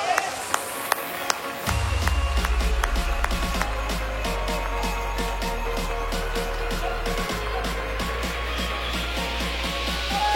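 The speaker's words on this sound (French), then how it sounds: "plus vite, plus fort les applaudissements." A crowd at a horse show at the 2022 Paris agricultural fair claps in a steady, rhythmic beat. The first sparse claps swell into continuous timed clapping over a loud, low background rumble.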